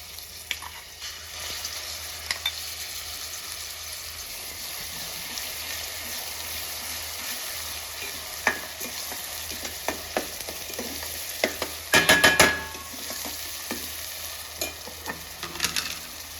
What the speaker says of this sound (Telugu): ఇప్పుడు మనం మిక్సీ చేసుకున్న పేస్ట్ అంతే ఆయిల్లో వేసేస్తాను